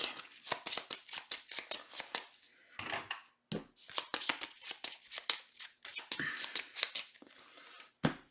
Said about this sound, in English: And these all shuffle back.